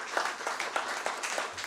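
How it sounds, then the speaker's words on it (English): Brief applause from delegates and guests at an economic outlook report launch, a handful of scattered, distinct claps in an uneven rhythm, fairly quiet and lasting under two seconds. "can you kindly give our panelists and our delegates a warm round of applause?"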